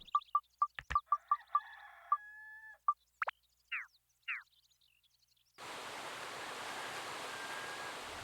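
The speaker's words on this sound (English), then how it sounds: "who likes waterfall noises?" Waterfall in the Dark Cloud video game: a steady, broad rushing roar that kicks in abruptly partway through and holds loud and even, after a run of game blips, chimes and swooshes.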